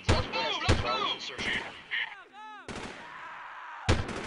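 Bursts of gunfire in the Delta Force 2 video game, several sharp shots and short volleys with ringing tails, separated by brief gaps and a quieter interlude, loud and close.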